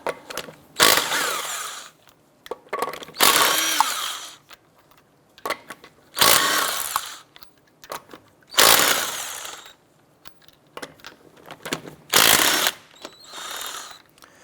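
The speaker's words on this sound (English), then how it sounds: "Using a 19mm socket, we're going to go ahead and remove our lug nuts." A power impact tool with a 19mm socket removes lug nuts from a Chevrolet Impala wheel in six separate loud whirring, rattling bursts of a couple of seconds each, with quiet gaps between them.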